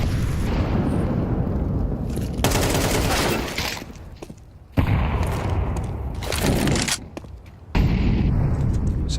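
Counter-Strike match on the Mirage map with sniper and MP9 fire: loud, dense bursts of gunfire and booming impacts in long stretches, broken by brief quieter gaps.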